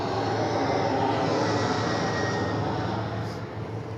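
An airplane comes in to land at Nice airport, a loud, steady roaring engine rumble close overhead that holds for several seconds and eases slightly toward the end.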